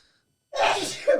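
A single loud, close sneeze bursts out after a moment of silence, with a brief rough tail at the end.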